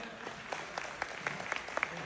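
Sparse applause from an audience at a Kastamonu days event, scattered individual claps spaced out over a faint background, quiet and somewhat distant.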